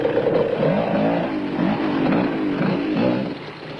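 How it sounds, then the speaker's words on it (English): A Winston Yamaha off-road motorcycle engine drones and revs steadily while the bike picks its way down a boulder-strewn section of the 1991 Roof of Africa race, loud and close throughout. "Brian Bontekoning found he and his Winston Yamaha had to proceed with caution down this boulder-strewn section of the route"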